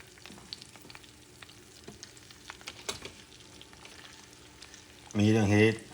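A store-bought corn tortilla fries in oil over medium heat for a taco, giving a quiet, steady crackling sizzle that runs throughout, with a louder burst of voice near the end.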